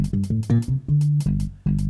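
A deep synth bass line in Fruity Loops stepping between notes, with short punchy tones and a longer held note, over ticking hi-hats.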